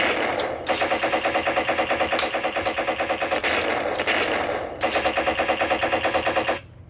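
Rapid electronic firing from a Ninja Turtles Super7 toy gun in repeated bursts, tinny and loud, with short breaks between volleys.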